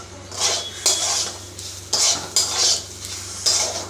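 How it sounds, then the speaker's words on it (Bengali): Semolina dry-frying in a pan for a savoury suji dish, a metal spoon scraping and clinking against the pan in a quick series of close strokes over a faint sizzle, no voices. "ভালো করে একটু ভেজে নিচ্ছি"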